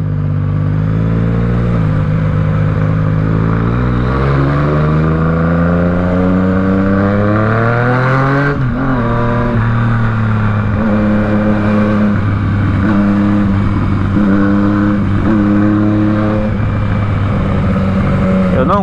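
A Yamaha MT-09 motorcycle accelerates hard on a test ride, its engine note climbing steadily through the gears in a loud close rising whine, dipping at a shift midway and then pulling up again under wind noise.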